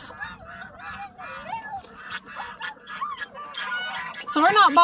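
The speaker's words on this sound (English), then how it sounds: "Very, very happy ducks." Several ducks quack and honk in a busy, overlapping chorus, close by, growing louder toward the end.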